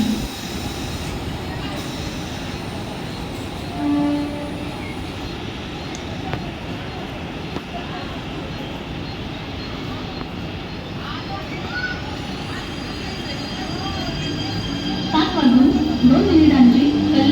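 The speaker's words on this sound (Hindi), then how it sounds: "प्लॅटफॉर्म क्रमांक 3 पर आई हुई लोकल 7:10 की कर्जत जाने वाली तेज लोकल है" A Mumbai local train rumbles at a station platform, a steady heavy mechanical drone with faint squeals. Public-address announcements and ambient voices sound over the rumble.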